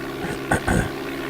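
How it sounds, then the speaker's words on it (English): Propeller aircraft engine in the DOS game Flight Simulator 4, a low steady synthesized drone with a couple of brief louder bursts, running alone without talk. "The engine doesn't seem so loud now."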